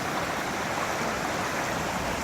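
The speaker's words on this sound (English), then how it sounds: "kept hearing these sounds of these rapids through the trees" Rapids of a flood-swollen stream rush through woods near Liberty Hill during the May 2015 flood, a steady, dense roar of water with no voices.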